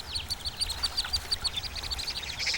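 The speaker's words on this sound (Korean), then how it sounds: "앞서거니 뒤서거니 어미를 따라 빠르게 이동하는 원앙 가족" A family of mandarin ducks, mother and chicks, hurries toward a pond, the ducklings giving a rapid, continuous string of high, thin peeps, close and fairly loud, with low rustling beneath.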